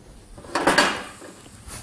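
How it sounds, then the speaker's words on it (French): A few short clinks and scrapes of a utensil against a bowl as chopped herbs are stirred into mushrooms for a stuffing, two or three close knocks followed by a quieter tap. "On le mélange à nos champignons."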